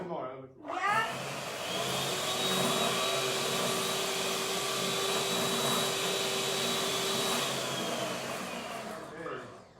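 An electric mixer whirs steadily as it beats madeleine batter, a continuous close motor hum lasting several seconds before winding down, with people speaking over it.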